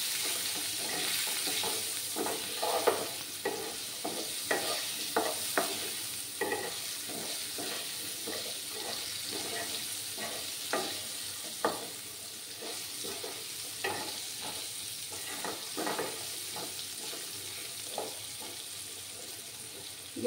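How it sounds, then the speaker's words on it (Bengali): Potatoes fry with turmeric and salt in a pan, giving a soft, steady sizzle. A spatula scrapes and stirs at irregular intervals, and the sound stays faint and close. "একটু সামান্য হলুদ গুঁড়ো দিলাম, একটু সামান্য লবণ দেব, দিয়ে একটু লাল করে আলুগুলোকে ভেজে নিতে হবে।"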